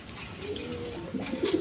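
A pair of pigeons coo softly nearby, a few low rolling calls rising toward the end.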